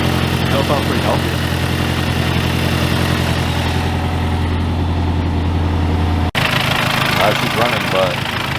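Mazdaspeed 3 engine idling with a loud flywheel, a steady rough mechanical rumble heard close and loud throughout, with a brief cut near the end and faint voices underneath.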